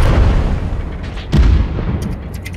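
Gunfire from pirates in Worlds Adrift, heard as a run of booming low shots with a heavier blast near the middle and a few sharper pops toward the end, loud and fairly close.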